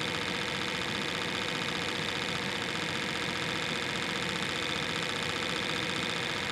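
A Bedini North Pole motor spins at high speed, making a constant, dense buzzing hum with a fine rapid vibration that stays even and close for the whole stretch, with no speech.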